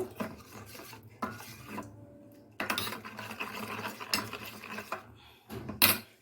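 Manchurian spice packet being mixed with water in a pot: a metal spoon scrapes and clinks against the pot in short bursts separated by brief pauses, close and fairly loud, with no voices.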